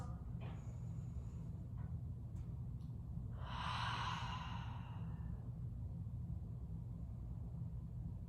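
Soft breathy exhale during a heated yoga stretching session, one long audible out-breath swelling in the middle, heard alone over a steady low room rumble.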